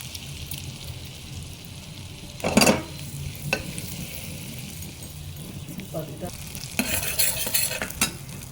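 Butter sizzles in a pan as cumin and mustard seeds are added for a tempering, giving a steady low frying hiss with a few sharp scraping stirs and spattering pops while someone talks.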